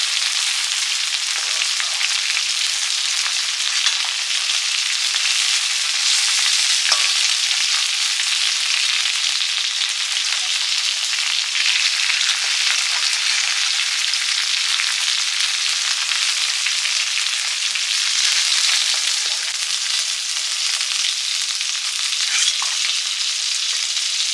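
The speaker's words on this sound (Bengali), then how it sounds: "রূপচাঁদ মাছ ভাজা হয়ে গেছে, তুলে নিচ্ছি।" Rupchand fish (pomfret) frying in hot oil, a steady dense sizzle that crackles continuously at close range for the whole stretch, with a few brief spatters and no voices.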